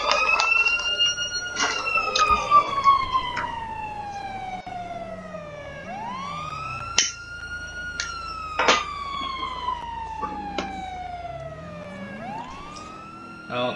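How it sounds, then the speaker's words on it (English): Video game police sirens wail continuously, rising and falling in repeated sweeps, loud and close, with scattered thumps and a voice speaking briefly underneath. "Can you turn off your siren?"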